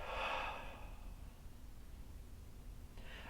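A singer's breathing exercise: one audible breath of air rushing through the mouth at the start, fading within half a second into quiet room hiss, with a faint second airy breath beginning right at the end.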